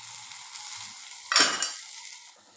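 Tomatoes cooking in oil in a covered pan give a steady, soft sizzle, with a louder burst of frying and a clatter of the pan or lid partway through, then easing back to a low hiss.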